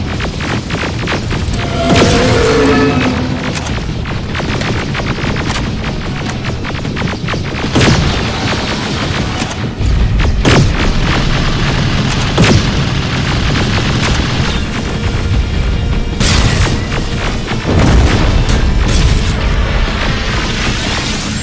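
Heavy combat in the video game Terminator: Resistance: dense, continuous booms and crashing blasts with throbbing low rumble, loud and close throughout, with sharper impacts punching through near the middle and end.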